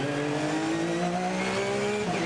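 Race car engines, including Porsches and BMWs, drone and rev continuously at the Hampton Downs 12 Hour race, the pitch rising and shifting as the cars power down into the hairpin.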